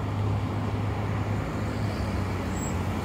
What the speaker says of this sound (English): Now I gotta let the cars go left.